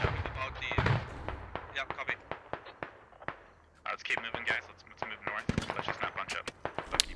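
Scattered sharp impacts and distant gunfire crackle irregularly around an armored BMP vehicle in the military game SquadOps, with faint voices and background battle noise throughout.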